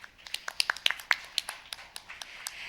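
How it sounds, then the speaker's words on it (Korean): Scattered clapping from a symposium audience after a keynote speech, individual sharp claps heard close and fairly distinct, irregular and sparse rather than a full ovation, with no talking. "여러분 다시 한번 뜨거운 박수 부탁드리겠습니다"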